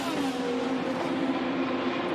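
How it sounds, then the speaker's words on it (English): IndyCar race cars scream past on track at around 177 mph, a loud, sustained high-pitched engine whine with steady harmonic tones that fills the whole moment. "These guys are flying 177 miles an hour the last lap for Pato O'Ward."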